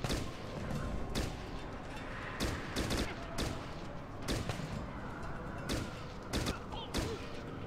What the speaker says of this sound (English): Why are you having such a terrible time shooting?